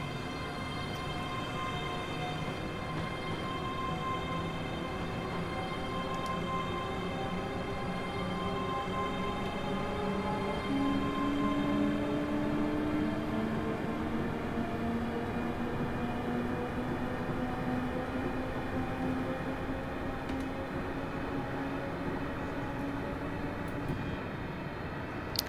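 Class 385 electric train in Train Simulator Classic on the Glasgow to Alloa and Dunblane route, running with a steady drone, rising motor whine and rail hum held at a constant level throughout.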